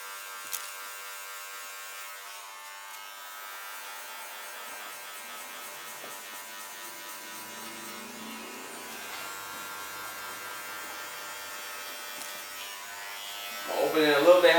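Electric hair clippers buzzing steadily close up during a skin fade haircut, a constant motorized hum that shifts slightly in pitch as the blade lever is adjusted.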